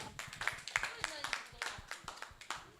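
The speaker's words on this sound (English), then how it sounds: "Please clap for me." An audience at an evening startup pitch event claps in uneven, scattered bursts while a voice keeps talking over the hands.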